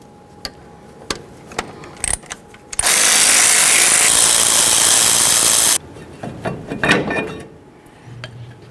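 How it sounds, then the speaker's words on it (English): Power tool whirring steadily for about three seconds as caliper slider bolts are removed from the front brake of a 1992-2000 Chevy Tahoe, bracketed by scattered metallic clicks and clinks of tools. "let's continue on to removing our caliper slider bolts so we can get the caliper out of the way"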